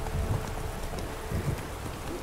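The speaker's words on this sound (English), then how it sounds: "it's one of these, like, sunny rainstorms" A steady rain shower hisses in the Witcher 3 game world, an even wash of falling drops, with a few dull hoof-like thuds from a horse underneath.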